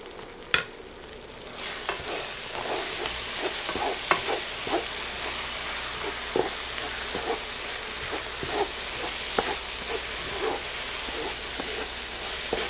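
Seasoning for gandule rice sizzles in a pot while a utensil stirs it, making repeated scraping strokes over a soft, steady frying hiss, close by and with no talking.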